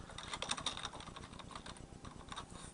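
Computer keyboard typing as notes are taken, a quick uneven patter of clicky keystrokes, close and moderately quiet, with no voices.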